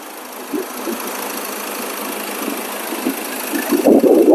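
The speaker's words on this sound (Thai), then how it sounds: "เครื่องทำงานปกตินะครับ" A 2016 Mazda BT-50 Pro 2.2 Hi-Racer pickup's diesel engine idles normally with a steady, rough, knocking rumble, growing louder and heavier near the end.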